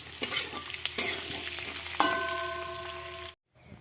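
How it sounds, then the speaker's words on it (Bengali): Boiled eggs and potatoes frying in a pan, a continuous close sizzle broken by several scraping stirs and clinks of a utensil against the pan, one ringing metallic tap, then abrupt silence. "এখানে ডিম আলু সেদ্ধ করেছিলাম, সেগুলো এই যে ভাজা করে নিচ্ছি"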